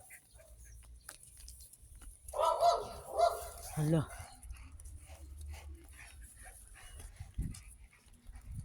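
An abandoned stray dog barks in a short agitated burst of several barks at moderate distance outdoors, over low background rumble, with a brief spoken word nearby.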